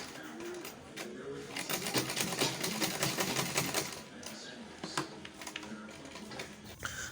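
Butterfly manual sewing machine stitching a zipper strap for a ladies' handbag, a steady close rapid clatter of needle strokes with brief pauses and shifts in pace.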